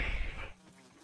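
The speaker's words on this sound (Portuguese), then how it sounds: "um mosquito" A mosquito from the game Grounded buzzes loudly and close for about half a second, then cuts off, leaving faint background ambience.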